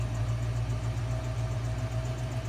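A Dodge Durango with a Demon special-edition setup idles nearby after a cold start, its engine holding a steady, deep rumbling drone with a faint rhythmic pulse throughout.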